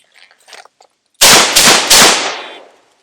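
Three loud, sharp shots from a Smith & Wesson Model 28 .357 Magnum revolver crack out in quick succession on a law enforcement handgun course, each ringing out briefly after a few faint handling clicks.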